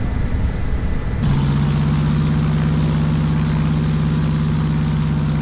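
A Nakajima Ki-27's radial engine in a flight simulator game drones steadily and loudly, rising from a rougher rumble into a smooth, sustained hum that holds with no talking.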